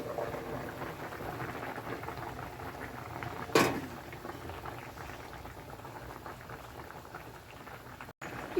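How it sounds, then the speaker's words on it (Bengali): Fish curry bubbling steadily in a pot on the stove, a continuous low simmering burble throughout with one brief sharp clatter partway in, close and moderately quiet with no talking. "দেখো ঝোলটা আমার ফুটে গেছে"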